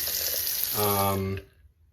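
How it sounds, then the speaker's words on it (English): A One Blade razor rinsed under a running tap. Water hisses steadily, a voice comes in over it near the end, and then the flow cuts off. "I'm just gonna rinse that. Comes off very easy."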